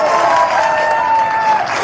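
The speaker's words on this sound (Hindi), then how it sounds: "जबरदस्त तालियां होनी चाहिए।" An audience at a live results and plan discussion event breaks into loud, dense applause, apparently standing, sustained steadily throughout with a faint tonal hum beneath.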